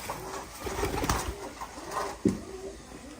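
Pigeons coo close by, several soft, low throaty coos repeating at an uneven pace, with a brief rustle near the end.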